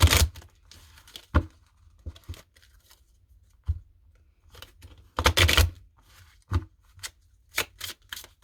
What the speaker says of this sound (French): Je voulais les battre encore.